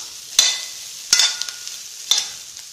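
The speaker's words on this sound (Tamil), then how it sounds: "ரெண்டு நிமிஷம் ஹை ஃப்ளேமில் நல்லா கிளறி விட்டுட்டு அப்படியே சிம்மில் விட்டுடலாம்" Three quick scraping strokes of a spoon through yam fry in a hot pan on high flame over a steady sizzle, no voices.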